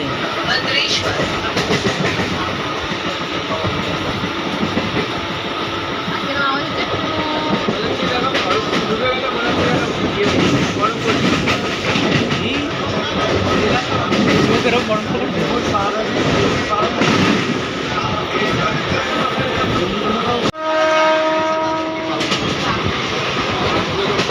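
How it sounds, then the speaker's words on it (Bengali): A train rumbles past loudly and steadily at Balugaon, Odisha, wheels clattering on the rails, with people talking over it; near the end a horn-like tone sounds. "ট্রেন কেমন করে যাচ্ছে?"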